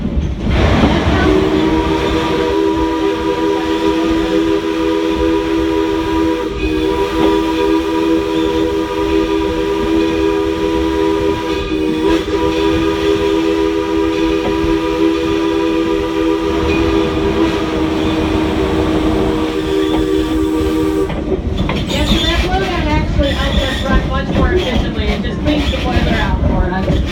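A steam locomotive near Smith Creek Station rumbles steadily with a loud, continuous hiss of escaping steam from engine blowdown and a sustained whistle-like tone, busier mechanical clatter toward the end.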